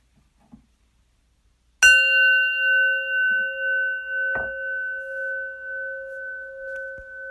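A meditation bell is struck once and rings out in a long, clear, sustained tone that slowly fades over several seconds, with a faint second tap partway through and near silence before the strike.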